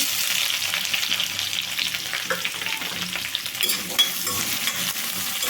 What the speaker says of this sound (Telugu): చూడండి లైట్గా వేగాయి అల్లం వెల్లుల్లి అండి ఇవి కూడా లైట్గా వేగాలండి ఇదిగోండి ఉల్లిపాయ ముక్కలు